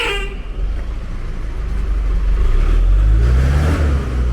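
A bus on a busy city street in Bocagrande, Cartagena, Colombia passes loud and close with a deep engine rumble that builds and swells. A brief horn toot and traffic noise sound around it.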